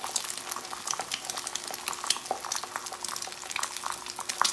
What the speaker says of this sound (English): put the egg in. That's perfect. You want to see the bubbling up, you want to hear that sound